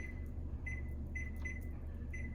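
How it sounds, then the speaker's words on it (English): Short high electronic beeps from a microwave timer repeat at a steady pace over a constant low hum. "put the timer on the microwave"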